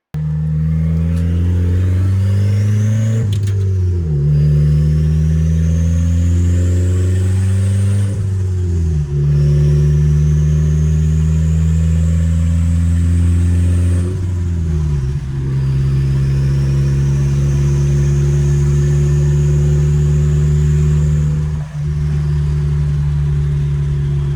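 Turbocharged Honda Civic with a custom TIG-welded downpipe, engine and exhaust droning loudly while driving, with repeated rising revs through the gears and a high turbo whine climbing over each pull; no talking.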